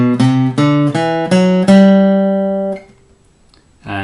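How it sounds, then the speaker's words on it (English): A guitar plays a major scale as a handful of clean plucked notes in quick succession, each ringing briefly, with the last one sustaining and fading out into silence. "Now the major scale is the one that you'll recognise if you don't know anything about scales and you hear someone playing this,"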